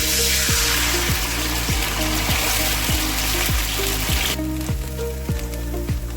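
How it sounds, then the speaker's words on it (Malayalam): Cornflour mixture poured into hot coconut oil crackles and sizzles steadily throughout, a loud, continuous frying hiss with soft repeated ticks and no talking. "നമ്മൾ കലക്കി വെച്ചിരിക്കുന്ന കോൺഫ്ലവർ ഇതിലേക്ക് ഒഴിക്കുക"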